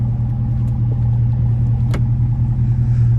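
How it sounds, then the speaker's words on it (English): A tuned 2017 GMC Yukon Denali with a 6.2-liter V8 and an aftermarket exhaust gives a steady, deep low rumble that stays close and even throughout, with no talking. "this one has an aftermarket exhaust that sounds really good"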